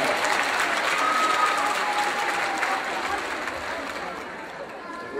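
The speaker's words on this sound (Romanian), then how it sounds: "Vă rog încă o dată aplauze pentru noi." Sustained applause from a live audience at a Romanian-language stage event in Rome, dense and steady at first and tapering slightly toward the end.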